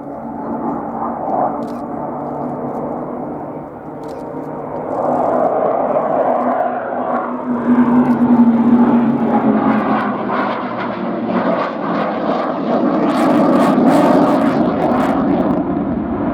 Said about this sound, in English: The F-18 is at rather slow speed and the PC-7 have to fly not too fast